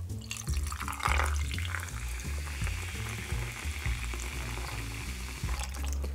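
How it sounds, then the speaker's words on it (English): Sprite lemon-lime soda poured into a green Grinch cocktail, a steady close fizzing and liquid splash that runs the whole time, with a low musical hum beneath. "In this case, I have some Sprite and we'll just pour it in like so."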